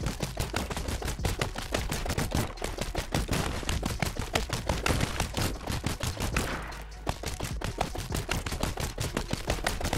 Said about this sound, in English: it's time to chop wood, and then smack, smack, smack, smack, smack 100 times.